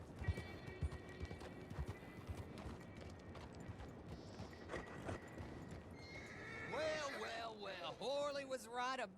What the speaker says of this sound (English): Get that horse hidden away, Clive, and ready to move out as soon as we